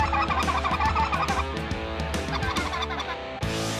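Flock of speckle-bellied geese calling in rural Arkansas during an early-season hunt, dense overlapping cackling and yelping that runs steadily and loudly throughout, with no talk.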